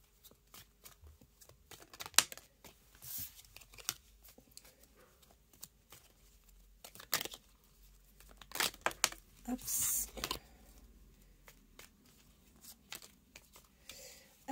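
Tarot cards being shuffled by hand at close range, soft papery riffles and crinkles coming in short bursts between pauses, with a brief spoken word.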